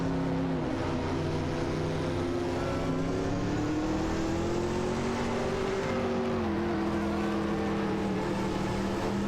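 Racing prototype engines in a racing video game, a Peugeot 905 and a Mazda 787B battling for position, give a continuous loud droning whine with rising and falling pitch throughout, steady with no pauses or voices.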